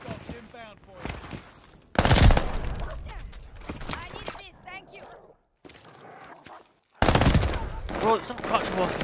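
An Armaguerra 43 submachine gun fires in the shooter game Call of Duty: Vanguard, loud rapid bursts separated by short pauses, with voices talking over the shooting.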